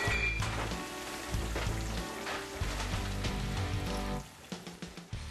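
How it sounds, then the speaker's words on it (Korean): Battered ginseng slices frying in hot oil, giving a dense, steady sizzle with crackling bubbles that thins out toward the end, close and fairly loud. "튀김 반죽을 가볍게 입혀 기름에 튀기는데"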